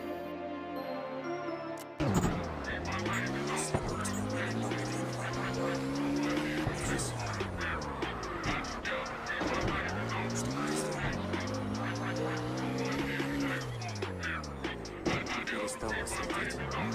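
Cars drift in CarX Drift Racing, a video game: engines rev and fall in long sweeping cycles while tires squeal continuously, a steady close loud mix after a brief quiet start.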